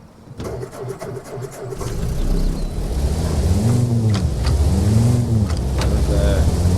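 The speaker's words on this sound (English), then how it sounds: "Start the engine" A military vehicle's engine turns over and catches in the game Arma Reforger, the starter cranking briefly before the motor settles into a steady, loud idle with rhythmic rising and falling hum.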